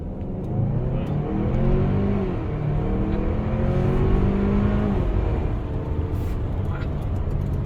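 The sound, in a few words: 2023 Kia Sorento SUV accelerating hard from a dead stop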